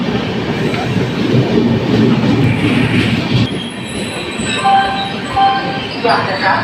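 The Pune–Kanyakumari Express runs at Thrissur station, a loud continuous rumble of wheels on rails with rhythmic clatter, followed by thin high squeals from the wheels as it passes.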